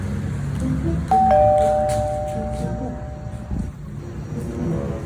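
A doorbell chimes once, its tone lingering briefly over steady background rumble and traffic noise.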